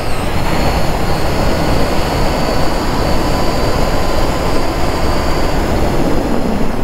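Triumph Trident 660 motorcycle (2021, A2 version) leaned hard through a curve, heard as a steady, loud broadband rush of wind and engine roar that stays constant throughout with no talk.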